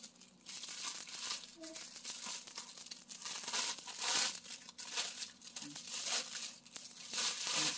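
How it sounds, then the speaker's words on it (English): A brown paper package being unwrapped, with continuous crinkling, crumpling and tearing of paper close by, in uneven bursts throughout. "so I'm going to unwrap it."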